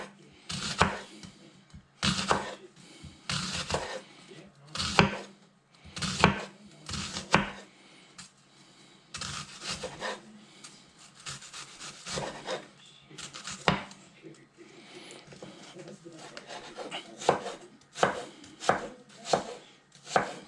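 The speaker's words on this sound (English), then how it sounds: "Now I'm going to chop some onion." Onion is chopped with a knife on a board in a steady series of sharp, close knocks, some quick bursts and some single strokes, over a quiet room.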